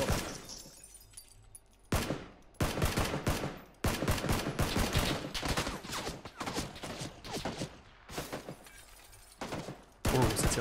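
Rapid automatic gunfire in PUBG, dense bursts of shots with cracking impacts, starting after a quieter opening and continuing almost unbroken, moderately loud with no talk.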